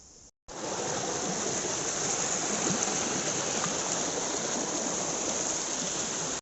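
A hill stream's flowing water fills the scene with a steady, close, full rushing hiss that starts abruptly and holds constant with no talking.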